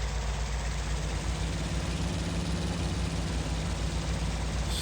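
A WW1 fighter plane engine in the flight simulator FSX drones steadily throughout, a dense, continuous rumble at constant loudness with no talk.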